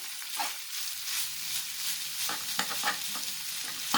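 Minced meat with garlic, onion and spices stirred in a pan, a steady hiss of sizzling with scraping strokes of the spoon recurring throughout, close and fairly loud with no talking.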